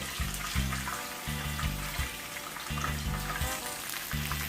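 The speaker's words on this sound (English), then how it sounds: "you don't want to fry your fish too dry" Fish frying in hot oil, a steady close hiss and crackle of sizzling spatter running throughout, with a rhythmic low thumping in the background and no talking.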